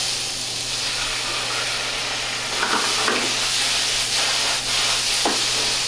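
Food frying in hot oil, a loud steady sizzle and hiss up close, with occasional stirring and scraping in the pan and no talking.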